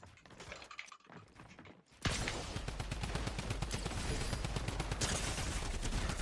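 A hard-kicking weapon in a first-person shooter game fires a long, loud, unbroken burst of rapid shots after a brief quieter moment.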